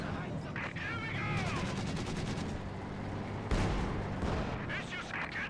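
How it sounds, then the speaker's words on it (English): A tank fires in the Company of Heroes 2 strategy game during a battle between Soviet airborne troops and German armored forces, heard as booming shots mixed with rapid gunfire bursts and shouted voices. "Tank firing on us!"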